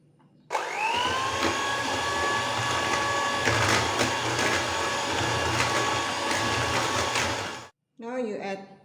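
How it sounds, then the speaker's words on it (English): Egg and sugar whisked for yogurt cake batter with a motorized mixer: a close, steady whirring motor whine holding for about seven seconds, then stopping as a voice begins speaking. "Mix with the whisk. The wet ingredient, you mix egg with sugar,"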